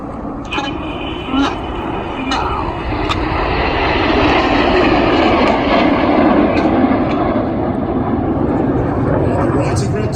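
Royal Air Force Red Arrows jets sweep past at an air show in New York, a loud, sustained roar that swells and holds while an announcer keeps talking over it.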